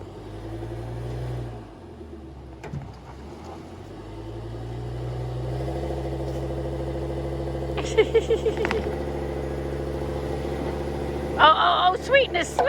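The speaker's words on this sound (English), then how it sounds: "Now we're using a truck." A truck engine pulls under load in a yard, steady low drone rising in intensity with a few revving surges toward the end; no talk over it.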